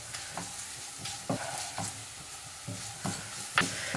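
Onions with chilli powder and crushed fresh chilli frying over low flame in a pan, stirred in a steady run of soft scrapes under a constant faint sizzle, with no voices.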